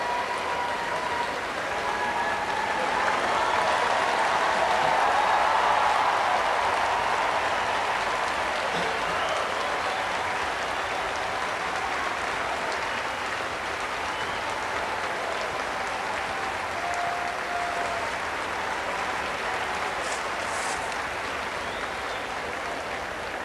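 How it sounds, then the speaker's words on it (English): A large crowd applauds at a tennis match as the players walk onto Centre Court for Henman against Ivanisevic, a sustained roar of clapping that swells early, then holds steady and full throughout. "And here come the players, no doubt to a huge ovation."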